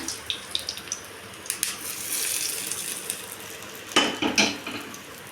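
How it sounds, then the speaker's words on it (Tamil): Bottle gourd chutney being stirred with salt, with a spoon scraping and clinking against the pan in scattered bursts, close and fairly loud, with no voices. "நல்லா கலக்கி விட்டுக்குங்க"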